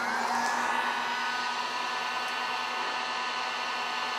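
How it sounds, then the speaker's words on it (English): Steady electric whine and airflow hiss of a heat gun cranked to full power drawing about 1.8 kilowatts from an inverter on a LiFePO4 battery, running continuously at moderate volume with no talk. "So let's start the heat gun on low."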